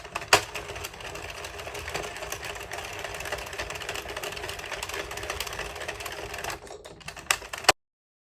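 An Addi or Sentro circular knitting machine is cranked through rounds of yarn, a steady close mechanical clatter and whir running continuously for several seconds before stopping abruptly.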